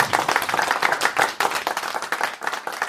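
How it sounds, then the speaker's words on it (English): Steady round of applause and clapping for a guest on a talk show, dense and continuous for about three seconds with no speech over it. "let's give him a round of applause"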